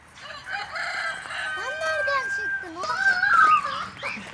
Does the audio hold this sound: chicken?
yes